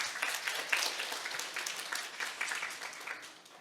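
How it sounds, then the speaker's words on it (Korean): Audience at a Hyundai research and development talk claps steadily, a soft, fairly distant patter of many hands that holds through the clip without a voice over it. "박수 한번 부탁드립니다."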